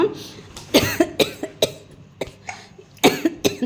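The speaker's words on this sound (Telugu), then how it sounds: "దగ్గు వచ్చేసిందమ్మ నాకు" A woman coughs in a run of sharp, close bursts: a pair near the start, a cluster in the middle and a final cluster near the end, with short quiet gaps between them.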